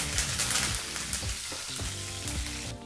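Urad dal, chillies and curry leaves sizzle loudly in hot oil while being stirred in a pan for brinjal rice. The frying is close and continuous, with scraping stir strokes throughout.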